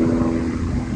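Steady low engine drone of a helicopter passing overhead in windy weather at Bushy Park, London, continuous and fairly loud through the whole second, with no voices.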